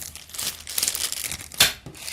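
A plastic bag holding screws and cable ties from an Aerocool Cylon RGB Flow mid-tower PC case is handled close up, giving continuous loud crinkling with a sharper rustle near the end.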